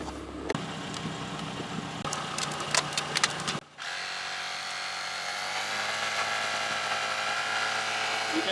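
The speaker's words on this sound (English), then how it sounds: "So let's go ahead and pump the tires." Small portable electric tire inflator with a built-in flashlight pumping up a car tire, a few sharp clicks and brief whirs before the motor settles into a steady, continuous buzzing hum close by.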